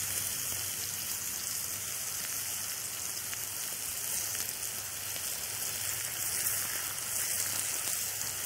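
Sliced apples caramelizing in a frying pan give off a steady, even sizzle with no break, close and moderately quiet, and no one talks.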